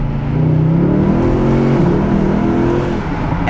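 A Mercedes SLS Black Series V8 downshifts, its loud, steady engine roar dropping and blipping as the gears change, close by and with no voices.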